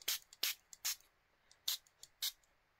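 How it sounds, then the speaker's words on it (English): A small hand-held spray bottle squirting over a craft card, about six or seven short crisp bursts in an uneven rhythm, close and alone with no talking. "We could just get this little spray bottle thingy and just give it a little squirt."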